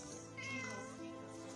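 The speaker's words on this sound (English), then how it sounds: "Oh, cute cat." A cat meows several times in a plain, steady tone, fairly close and clear, with no talking over it.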